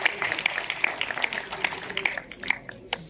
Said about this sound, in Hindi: मैं चाहूंगी कि एक बार जोरदार तालियों से आप सभी अपना अभिनंदन करें।